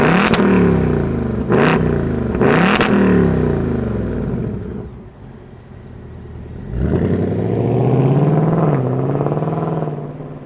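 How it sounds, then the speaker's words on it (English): A 2024 Ford Mustang GT V8 engine cranks and fires up with sharp revs, then settles to a rumbling idle before revving loudly again, close by. "let's fire it up and hear this Mustang GT roar"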